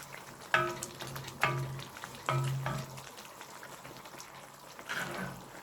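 Chicken liver goes into a pan of frying oil with tomatoes, sending up several sharp sizzling bursts as pieces drop in, each fading into a low steady crackle at close range.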